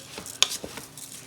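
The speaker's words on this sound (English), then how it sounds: "Maybe to give it one more stir, make sure nothing's sticking." A spoon stirs turkey jook in a pot, giving a few soft, close scrapes and knocks against the metal under a faint sizzle.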